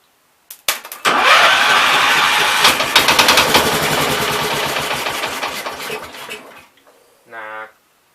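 A 1969 Gravely 432 garden tractor engine cranking with the choke shut, loud and close, a rapid rattling churn of several seconds that fails to catch, then a short whirring burst after a pause.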